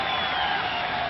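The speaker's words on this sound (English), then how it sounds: "Something for the crowd to cheer" A cricket crowd at a World Cup match in Paarl, South Africa cheers after a six, a brief, steady wash of distant roaring applause.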